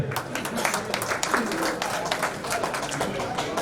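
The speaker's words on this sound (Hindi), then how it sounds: "थोड़ी सी तो ताली बजा दो।" Small audience at a photographers' society certificate ceremony in Prayagraj clapping in a loose, uneven round, with voices murmuring underneath.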